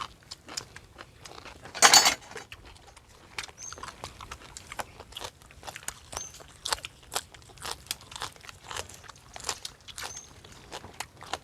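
Someone bites into a crispy snack, giving a run of close, sharp crunches and chewing sounds at an irregular pace, with one louder crackle early on.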